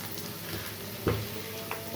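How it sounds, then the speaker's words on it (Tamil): Tomatoes sautéing in a pan for a crispy mushroom fry, a steady soft sizzle with a few louder stir-bursts of frying. "அப்புறம் தக்காளியை போட்டு வதக்கணும்னா போதும்"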